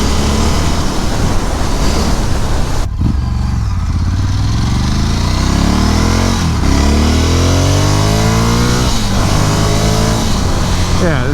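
A 2022 Ducati Scrambler 1100 motorcycle on the road, its engine note rising repeatedly as it accelerates through the gears, loud and close, with heavy wind rush throughout.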